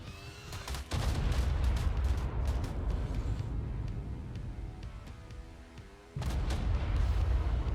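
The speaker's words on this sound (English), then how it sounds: "I saw some explosions" Explosions in the video game Ark Primal Chaos burst out as a dense, loud barrage of booms and crackling blasts, easing briefly before a fresh volley erupts near the end.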